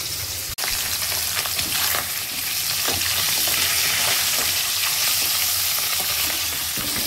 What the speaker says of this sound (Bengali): চাল কুমড়োটা বসিয়ে দিলাম, ফোড়নে দিয়েছি জিরে, শুকনো লঙ্কা, তেজপাতা